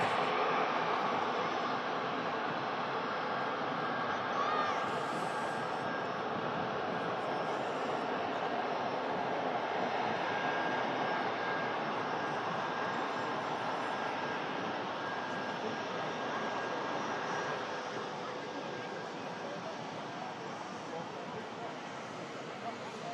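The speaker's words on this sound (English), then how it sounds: "See the arriving Ryanair, just pulling up to stand there now." A Ryanair airliner rolls slowly to its stand at an airport, its engines a steady broadband roar that holds for over twenty minutes' worth of seconds, fading slightly near the end, with a voice talking over it.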